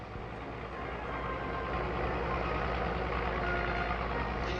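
Large scrapyard at Waltham Cross with a steady wash of heavy vehicle and machinery noise, a truck's reversing alarm beeping through the continuous rumble, fairly loud and unbroken throughout.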